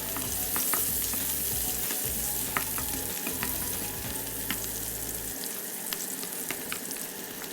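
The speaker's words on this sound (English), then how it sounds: "In a very hot oil, fry the onion first" Onion fries in very hot oil with a dense, continuous sizzle and crackle, steady and close, with a few faint clicks and no voices.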